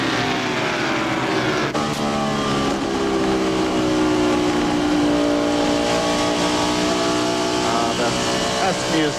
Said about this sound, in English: Those engines really sound good across that short chute.